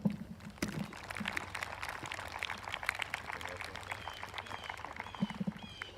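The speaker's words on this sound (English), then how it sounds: "Let's give them one more round of applause." Applause from an audience at a state cross country celebration honoring graduating runners, a steady field of claps sustained for the full stretch at moderate level after a brief low hum at the start.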